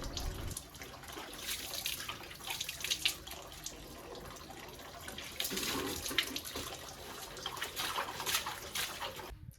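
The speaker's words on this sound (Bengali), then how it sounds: "আমি এখন মুখ ধুচ্ছি" Tap water runs steadily into a sink while someone washes their face, with splashes and small surges as hands scoop and rinse, close and moderately loud with no talking.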